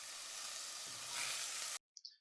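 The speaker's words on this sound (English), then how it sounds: "they should be able to hear the sound of cooking clearly" Cooking sizzle in a film's sound design, a steady loud frying hiss for nearly two seconds that cuts off abruptly, followed by a couple of faint short sounds.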